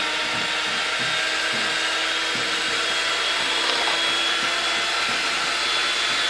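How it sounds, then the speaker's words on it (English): A hand mixer whips angel food cake batter at medium speed, a steady loud motor whine running continuously with faint rhythmic beater knocks underneath. "We're going to use our hand mixer now to mix the rest in."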